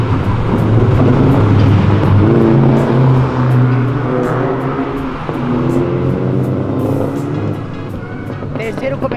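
Sports cars, including Lamborghini, BMW and Ferrari, downshifting and revving on Avenida Europa, a loud close engine roar with rising and falling revs and gear changes, while people talk over it.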